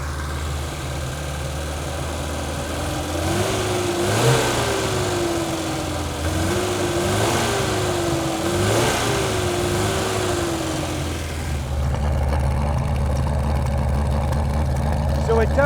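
An old abandoned car idles with a carburetor engine running unevenly, a steady low rumble broken by a rhythmic misfire lope, close by throughout.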